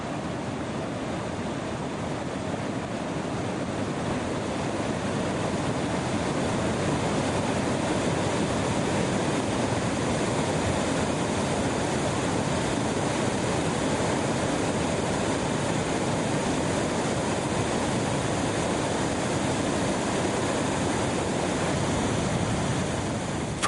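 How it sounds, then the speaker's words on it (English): Floodwater from a flash flood crashes down from plateaus in a raging torrent, a steady loud roar of rushing water with no pauses and no voices. "the water comes crashing down and rushes headlong towards the plains"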